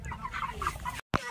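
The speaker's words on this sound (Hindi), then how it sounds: "यहाँ अभी हम लोग आ चुके हैं फार्म में, मुर्गी फार्म।" Hens at a poultry farm cluck in a busy, overlapping chorus, close and moderately loud, with one short sharper call after a brief gap.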